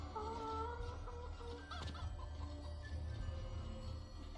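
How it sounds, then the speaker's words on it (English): Little chicken clucks from the video game Poppet Quest sound over a steady low game hum, soft repeated fowl calls with a brief noisier burst midway, no voices. "They'll always know when they're around because of the little chicken noises."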